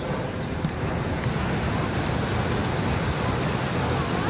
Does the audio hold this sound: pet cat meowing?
no